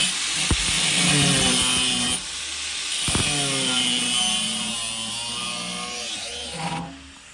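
Continuous rasping of a saw cutting through wood close by, with brief pauses and a faint voice in the background.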